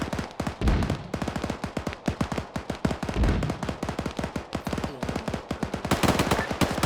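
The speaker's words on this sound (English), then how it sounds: "Houston, that MG on the red hospital is back up. Shoot him." Machine gun fire in the Arma 3 video game, a long sustained stream of rapid bursts in a tight rhythm with a few heavier booms mixed in, loud and close, and no talk over it.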